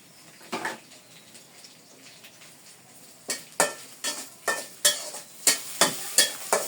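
Dried fish fries in a pan with salt and chili, a soft sizzle, then a spatula scrapes it in quick, regular strokes that grow louder toward the end.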